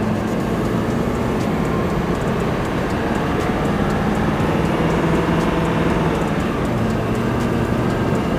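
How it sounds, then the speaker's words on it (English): A Ford Powerstroke truck crawls uphill in four-low first gear: a steady, loud low engine drone with continuous rumble and no break throughout. "we are four low, first gear. And we're just gonna crawl up."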